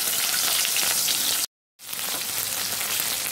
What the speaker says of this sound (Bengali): তেল গরম হয়ে গেছে আর আমি দিয়ে দিচ্ছি মাছের মাথা